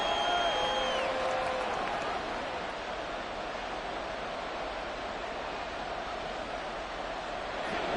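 A football stadium crowd roars steadily ahead of a big third down, a dense broadband wash of cheering that holds evenly throughout with no clear individual voices.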